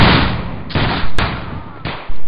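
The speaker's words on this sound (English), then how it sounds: "That's the kind of shot I want" A reenactment regiment's musket volley, loud cracking discharges sounding in quick succession, three or four sharp blasts each trailing off into a ragged decay.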